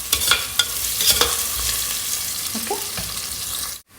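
Onions and green chillies frying in hot oil: a close, bright sizzle with several clattering stirs against the pan. It cuts off abruptly near the end, and a brief spoken word is heard.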